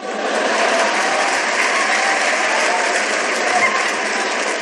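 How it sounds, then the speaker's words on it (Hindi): Dense, steady applause from a kavi sammelan audience rewarding a joke in a Hindi comic poem, loud and continuous for the whole stretch with no pause. "और ताली तो इस बात पर बजाओगे"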